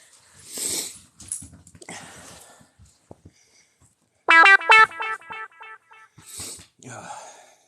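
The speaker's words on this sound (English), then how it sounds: "I love my dog, but I hate when she barks nonstop." A dog barks in a short burst of several sharp, loud, close barks midway through, with a person talking before and after.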